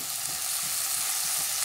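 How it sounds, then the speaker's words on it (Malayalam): Chopped tomato sizzles in a pan of frying onions for a lentil dal, with a steady close hiss and soft stirring strokes throughout, no voices. "ഇനി ഇതിലേക്ക് നമുക്ക് ഒരു ചെറിയ തക്കാളി മുറിച്ചത് ചേർത്ത് കൊടുക്കാം"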